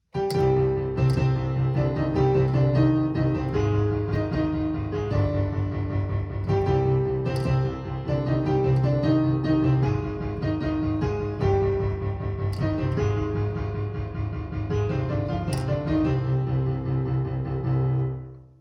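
Piano music from the game FNAF, with several layered parts moving together at a steady moderate pace, melody over a repeating low accompaniment, no voices.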